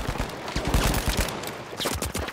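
Rapid gunfire in The Finals, a dense burst of loud, closely spaced shots that continues with only brief gaps.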